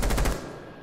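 A quick burst of rapid automatic gunfire from a shooter video game rattles out loud and close, then cuts off into a fading tail.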